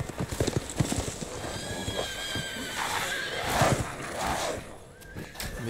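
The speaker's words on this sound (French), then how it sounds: "Mais ils sont à cheval." Horses neigh and whinny over a steady clip-clop of hooves in Resident Evil Village, several loud, drawn-out calls rising over the clatter amid game ambience.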